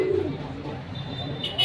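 Domestic pigeons at a pigeon market, one giving a short low coo near the start amid quiet background noise, with a faint high whistle-like tone toward the end.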